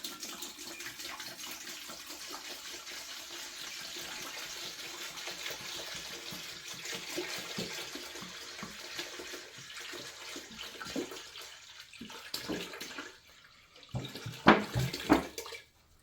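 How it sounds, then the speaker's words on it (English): Natural spring water pours in a steady, rushing stream into a stock pot for about thirteen seconds, then tapers off into a few clunks and splashes. "So we're just going to pour that in the stock pot."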